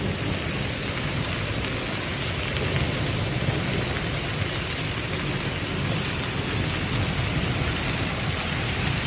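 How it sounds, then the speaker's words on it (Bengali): Heavy rain with hailstones pours down in a dense, continuous roar, loud and close, with no pauses and no voices. "আজকে আমাদের এখানেও প্রচুর বৃষ্টির সাথে এই যে শিল পড়তেছে"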